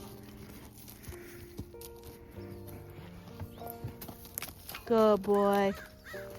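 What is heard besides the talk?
horses walking in, hooves clip-clopping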